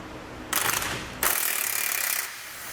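A 19mm socket turning off a shock nut during a rear suspension install: two bursts of close, gritty mechanical whirring and rattling, the second longer and steadier, with no talking.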